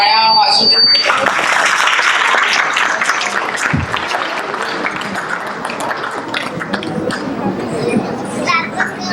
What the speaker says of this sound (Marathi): जरा टाळ्या वाजू दे.